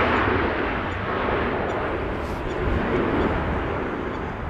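Airliner jet engines rumbling loudly on a windy arrival at Amsterdam Schiphol Airport, a steady broadband roar mixed with gusty wind buffeting throughout, no distinct speech.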